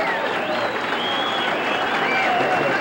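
A banquet crowd at a 1986 sportsman's event gives a standing ovation, with dense, sustained applause filling the room and a few cheers and voices mixed in.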